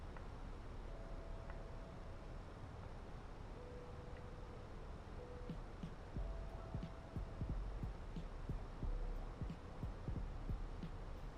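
A cheap, noisy home air conditioning unit hums steadily at close range, with a low broadband drone and faint tonal whine running through.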